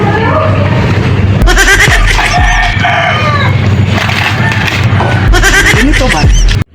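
A person imitating a goat, letting out loud, wavering bleats in repeated bursts with short pauses between, close to the microphone, with a bit of speech mixed in.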